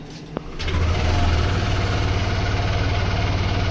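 A Yamaha Nmax v2 scooter engine starts and settles into a steady idle, a close, continuous low hum with fine vibration that holds evenly after a brief click at the start.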